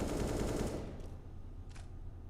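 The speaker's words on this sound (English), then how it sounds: "And the shotguns are out in full force." Rapid automatic gunfire in Counter-Strike: Global Offensive on the Nuke map at a professional match, a loud burst that fades out, followed by a single short shot, with no voices over it.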